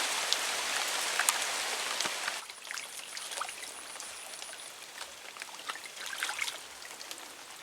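Steady rain patters down over a swamp during a fishing outing, a dense hiss that is heavier at first and then softens into scattered drops and drips close by, with no talking.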